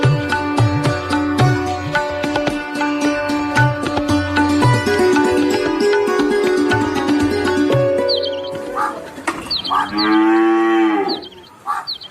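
A cow in a Malayalam radio drama lets out a long, loud, drawn-out moo near the end, following a passage of music.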